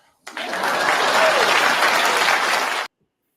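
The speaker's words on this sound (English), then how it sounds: "Please clap." A burst of applause from an audience starts abruptly, holds steady and dense for under three seconds, then cuts off.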